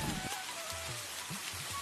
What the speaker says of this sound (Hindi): बाबा आ गई, बारिश आ गई।